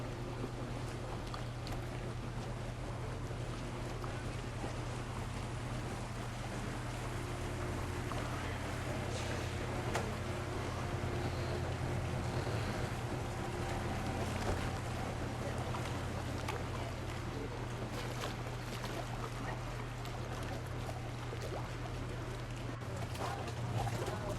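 Boats moving along a Venice canal near the Ponte delle Guglie, a steady low engine drone with water and wind noise running continuously underneath, fairly loud and unbroken throughout.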